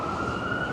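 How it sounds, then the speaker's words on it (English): A fire truck siren wails steadily at a distance in downtown Vancouver, a sustained high tone over low city rumble. "that one's the sound of a fire truck"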